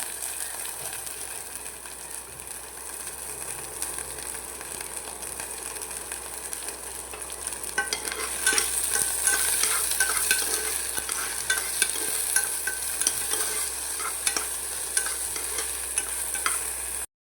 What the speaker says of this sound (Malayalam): നമുക്ക് വെണ്ടക്ക ഒന്ന് വറുത്തെടുക്കാം കേട്ടോ അതിൽ കുറച്ച് ഉപ്പ് ഇട്ട് കൊടുക്കാം